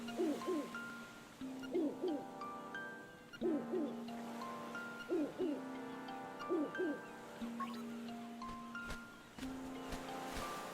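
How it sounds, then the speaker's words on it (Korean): An owl character in the video game Zelda: Link's Awakening gives a repeated chiptune hooting call, a rhythmic pattern of short rising tones that recurs about every two seconds over a steady electronic background tune. "검에 다가가면 부엉이가 나오네요"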